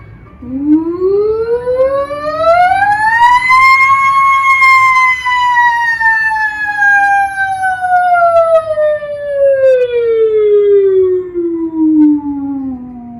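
A single voice imitates a siren, gliding smoothly up in pitch, holding high, then sliding slowly back down in one long, loud sustained sweep.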